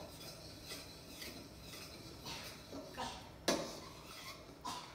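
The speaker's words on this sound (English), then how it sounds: "I'm going to stir everything and just let it sit and come to a boil." Spoon stirring a tomato paste mixture in a pot: soft repeated scraping and clinking strokes at an irregular rhythm, with one sharper knock against the pot, close and fairly quiet over low background noise.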